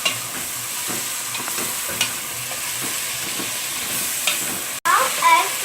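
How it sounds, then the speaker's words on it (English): Tomatoes and curry leaves frying in a pan for chicken curry give a continuous close sizzle with a few soft stirring taps, ending in a brief burst of louder spitting. "Now add 2 small tomatoes and curry leaves. Cook for 3 to 5 minutes."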